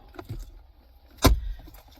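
Keys jangle inside a bag in a quiet setting, a few faint rustles and small clinks followed by one sharp, brief metallic jingle close by.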